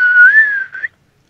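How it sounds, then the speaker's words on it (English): One person whistling a single sustained tone that rises and falls slightly, with a short break and a brief upward flourish at the end, loud and close, followed by silence. "Yeah, I suck at whistling."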